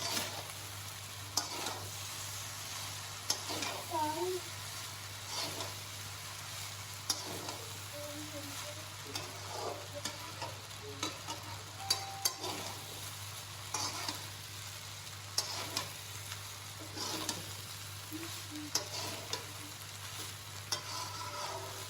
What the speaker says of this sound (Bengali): এবার দিয়ে সম্পূর্ণ মিশ্রণটাকে আমি আবার পুনরায় মিশিয়ে নেব